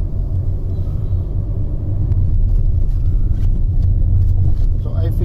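A steady, loud low rumble of road noise comes from the heavy alloy wheels inside a Hyundai Venue while it is driven, continuing unbroken with a voice talking over it.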